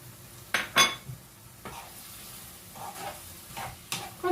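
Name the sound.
onions and spices frying in oil in a pan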